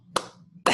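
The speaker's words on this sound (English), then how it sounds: "I like the way you clap, man." Two crisp, close hand claps spaced about half a second apart, alone and fairly loud.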